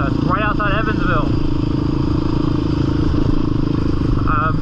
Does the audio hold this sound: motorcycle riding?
yes